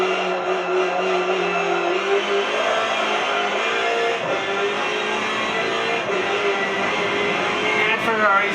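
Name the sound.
race car engine in video game Forza Motorsport 7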